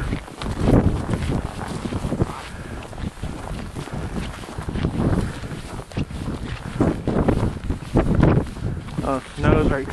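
Strong blizzard wind buffets the microphone outdoors during a Christmas snowstorm in Minot, North Dakota, with loud, gusty roaring that rises and falls in waves, while people talk intermittently over it.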